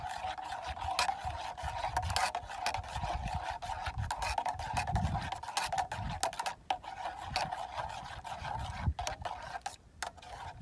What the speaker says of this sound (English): A bit of a stir.